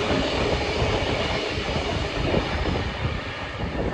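A commuter train passing close by, its cars clattering and rumbling loudly and continuously over the rails with a dense, even roar throughout and no voices.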